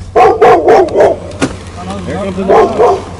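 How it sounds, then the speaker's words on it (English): A dog barks several times in quick bursts, loud and close, with yips and a whimpering tail, while people talk over it outdoors in a Michigan fishing setting. "Come get your dog"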